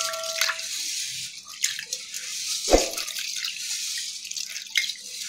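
Chana dal and toor dal being rinsed in water for a mixed dal, with soft splashes and drips scattered across the clip and one louder slosh in the middle, close and fairly quiet.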